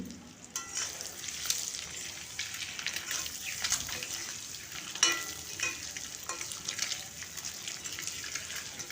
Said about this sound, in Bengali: ওই তেলের মধ্যেই আমি ডিমগুলো ভেজে নেব